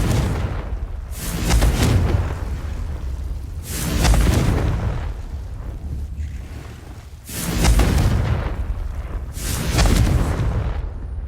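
Confringo fire spells blasting in Hogwarts Legacy on PS5: four loud booming bursts spaced a few seconds apart, each with a whooshing explosive rush and lingering rumble, no talk over them.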